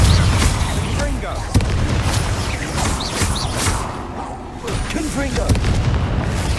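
Spell explosions and booms from the Hogwarts Legacy video game sound in a dense, loud battle, with repeated bursts and crackles against a rumbling background. Speech is heard throughout.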